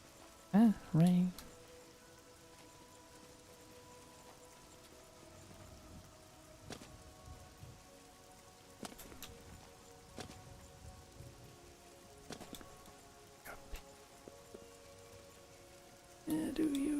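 Rain falls in the video game Oblivion, a faint, steady patter with scattered drop clicks, and brief voices at the start and end.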